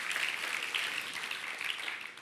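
Church congregation applause during a sermon, a soft, even patter of many hands clapping that stays steady throughout.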